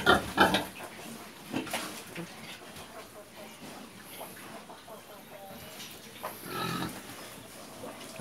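Free-range breeding pigs, sows and boars on a farm, grunt and snuffle close by in a pen, with intermittent squeals over a low background, as someone talks.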